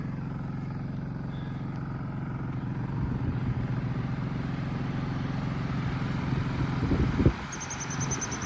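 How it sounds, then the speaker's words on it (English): A three-speed fan runs on its lowest setting outdoors, producing a steady low hum and whoosh with faint rattles and a brief clatter near the end, with no talking. "I want to show you this fan. I'm impressed with this fan. It's 3-speed. So I'm going to hit number 1."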